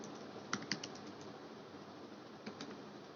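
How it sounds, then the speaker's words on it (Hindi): Light tapping on a laptop keyboard, quiet and a little distant, with scattered keystrokes and a few sharper clicks over low room hiss. "जो टाइपिंग की आवाज़ आ रही है ये मेरे लैपटॉप की है"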